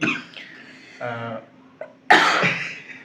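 One person coughs close by in several bursts, with a couple of short rough coughs early on and a louder, harsher cough near the end, in an otherwise quiet room.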